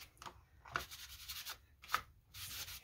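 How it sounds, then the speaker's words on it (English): Marks being rubbed out on the cover of a cereal box journal during mixed media work, a few soft, close scrubbing strokes in short bursts, with no talking. "I'm gonna rub that out."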